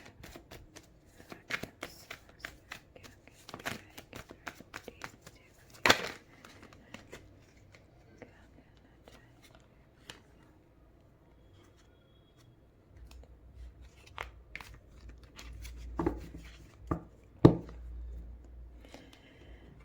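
Tarot cards shuffled and drawn from a deck, giving repeated crisp riffles and soft slaps close by, with scattered shuffles early on and a busier, louder burst of handling near the end. No one speaks.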